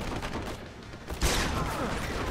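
In the stealth action game Deus Ex: Human Revolution, rapid gunfire crackles, with scattered shots at first and then a loud, dense burst of automatic fire near the middle that continues to the end.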